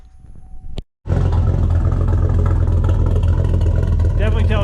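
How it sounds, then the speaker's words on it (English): An LQ4 6.0 V8 fitted with a Texas Speed cam and heads idles loudly and close with a steady, lumpy rumble after a brief cutout, running slightly untuned. "Definitely tell it's not quite tuned, but it's actually idling a lot better than I expected it to for this cam."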